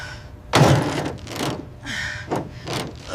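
Someone forces the stuck door of a barn-find 1967 Ford Mustang Fastback with a deformed frame. A heavy thud comes first, then a few softer bumps and scrapes.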